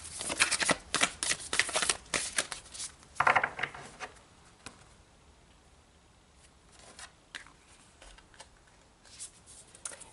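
Tarot cards shuffled and handled by hand as an outcome card is pulled, soft papery riffles and flicks in quick bursts, close and quiet, with lighter rustles after a pause.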